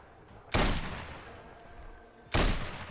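Two loud, close SV-98 sniper rifle shots in Fallout 4, spaced nearly two seconds apart, each a sharp crack followed by a long echoing tail.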